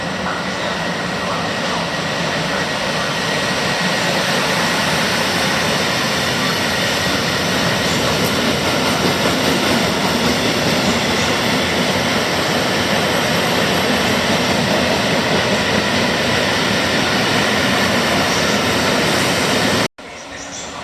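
At Milano Rogoredo station in the rain, a train passes close by with a loud, sustained broadband roar that holds steady for about twenty seconds before cutting off abruptly.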